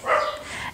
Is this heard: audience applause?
no